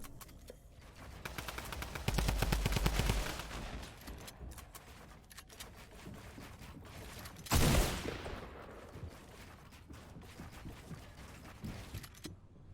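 Drum gun fire in the Fortnite video game: a dense burst of rapid automatic shots, followed later by a single sharp loud blast amid quieter mechanical clicks and scattered game sounds.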